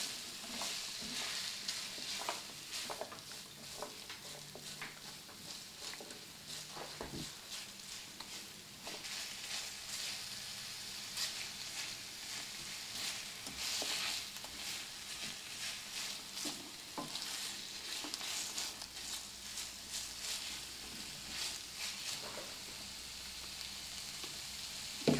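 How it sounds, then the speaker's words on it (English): One small chopped onion fries in a pan with a steady, bright sizzle and crackle, broken by occasional stirring clinks across a long stretch without voices. "I'm going to add the onions to it. And this is just 1 small onion that I chopped up."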